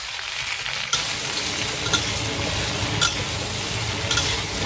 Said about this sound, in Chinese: 烧香之后我们把小龙虾也给它倒进去进行翻炒